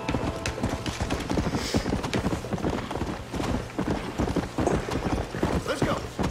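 Horse hooves clip-clopping in Red Dead Redemption, a steady, fairly close rhythmic trot running throughout, with people talking faintly underneath at times.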